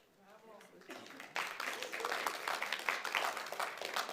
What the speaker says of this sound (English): please don't applaud during the board session